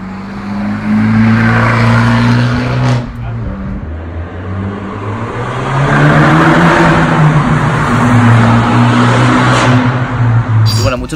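A 2019 Abarth 595 Competizione engine revs and accelerates with a deep booming exhaust, loud and close, and the pitch rises and falls through several gear changes.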